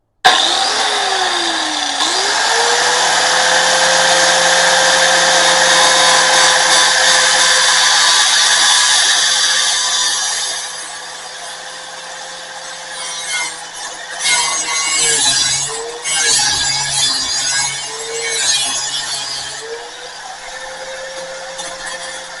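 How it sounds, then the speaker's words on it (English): A cutoff wheel spins up and grinds steadily through a metal oil filter housing on a Mazda CX-5, a loud sustained whine lasting about ten seconds, then tapering into shorter stop-and-start cuts. "I'm going to take out my cutoff wheel here and cut open this"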